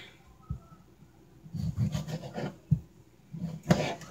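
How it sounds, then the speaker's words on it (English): Serrated knife sawing through tomatoes in a home kitchen, cutting them into small squares for tacos: a few soft rasping strokes and quiet taps against the board, close and fairly faint, with no talk. "I like to cut my tomatoes with, what do you call this? Jagged edge or serrated."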